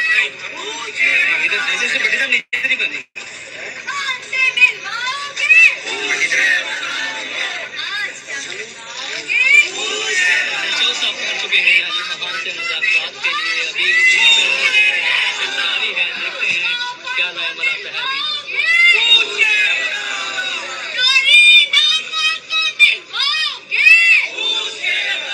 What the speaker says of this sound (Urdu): PTI کے کارکنان اڈیالہ جیل کے باہر موجود ہیں، نعرے بازی چل رہی ہے